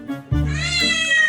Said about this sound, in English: It was really funny to watch her meow on cue when they asked her to say hi.